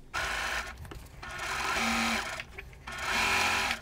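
Sewing machine stitching quilt sections of a checkerboard jelly roll race quilt together, running in three close bursts separated by short pauses.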